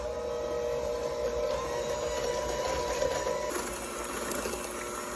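An electric mixer blends sugar into sourdough vanilla wafer batter, producing a continuous steady motor whir at moderate loudness with a shift in tone partway through, no talking.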